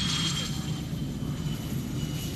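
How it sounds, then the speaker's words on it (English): A T-50 advanced jet trainer of the Black Eagles display team flies at an air show, a steady distant engine roar filling the background without a break. "It's a big aircraft for an advanced jet trainer, a hugely impressive machine and brilliantly displayed."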